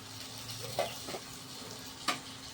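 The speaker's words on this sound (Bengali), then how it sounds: "পেঁয়াজটা ভাজা হয়ে গেছে। এবারে আমি টমেটোগুলো দেবো," Onions fry in oil in a pan for a katla fish kalia, a steady close sizzle broken by a few sharp clicks of a spoon being stirred against the pan.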